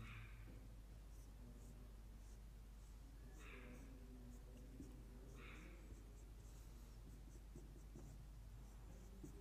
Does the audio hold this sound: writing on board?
yes